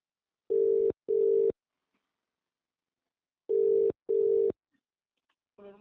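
Telephone ringback tone heard while placing a call: two pairs of steady, clean electronic tone bursts with a long silent gap between the pairs, loud and alone, with no talk over them.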